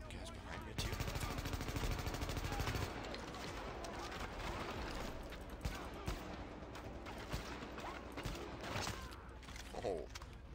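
Dense gunfire in The Division video game, sustained loud bursts of shots with mechanical clacks and scattered impacts over a busy, noisy battle background.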